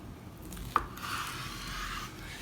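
A single firm knife stroke cuts through smoked pork ribs with a short crisp snap, followed by a soft drawn-out scraping slice, no talking.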